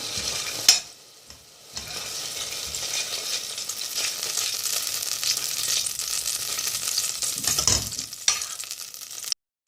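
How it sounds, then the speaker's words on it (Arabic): Ghee or butter melts in a pot that has just been used to boil pasta, giving a steady close sizzle with stirring scrapes and short pauses, alone and fairly faint. "معلقه سمنه بلدي او معلقه زبده، وفي نفس الحله هنحطها. سيبها بقى تفك كده"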